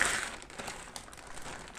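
Plastic and paper packaging crinkles and rustles as it is pulled away from a keyboard box, with quiet close-up crumpling bursts and no talking.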